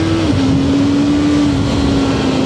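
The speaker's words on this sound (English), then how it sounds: "just now as I was opening the throttle, the rear wheel started spinning and we drifted a little" A sport motorcycle accelerates hard as the rider opens the throttle and the rear wheel spins, giving a loud, steady engine drone that holds one pitch with a small dip near the start and continues unbroken.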